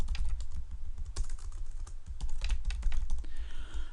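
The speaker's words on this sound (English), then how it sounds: "I'm going to type the names of a few places." Rapid, irregular keystrokes on a computer keyboard, close and steady for several seconds, with a brief pause near the end and no voices.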